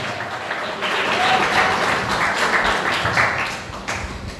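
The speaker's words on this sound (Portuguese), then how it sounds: "Aquela linda salva de palmas, com glória a Deus." A church congregation applauds for Jesus during a worship service, steady dense clapping from many hands swelling after the first second and holding loud to the end.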